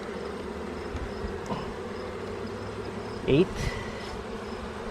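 Honeybees hum in a continuous low drone during a hive inspection, close and even throughout. A brief knock or frame scrape sounds near the middle, and a voice speaks only briefly.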